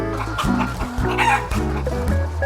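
A flock of chickens kept on a welfare-focused farm clucks loudly and close, with overlapping clucks and a few brief crowing calls in quick succession, and no talking.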